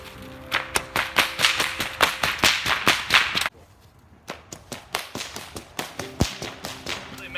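A paracord bullwhip fires a fast volley of sharp, loud cracks in a quick steady rhythm, pauses briefly, then cracks again in a second, slightly quieter run.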